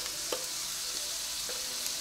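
Finely chopped onion, one large bulb, frying in a pan for meat-filled pirozhki, giving a steady broadband sizzle with a few faint scrapes of stirring, close and continuous with no talking.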